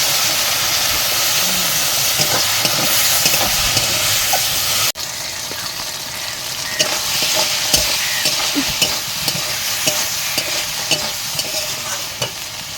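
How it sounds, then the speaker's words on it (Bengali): Prawns sizzling in a pan with ginger-garlic paste as a little water goes in, a loud steady hiss and frying crackle with scraping stir strokes, close up and without voices. "চিংড়ি মাছটা কষানোর জন্য দিয়ে দিচ্ছি অল্প করে জল"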